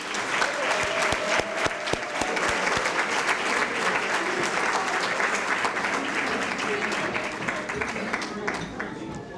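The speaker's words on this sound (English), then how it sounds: "a round of applause" Dense, loud applause fills a sports hall of fame banquet room, many hands clapping in a sustained roar with sharp individual claps standing out throughout.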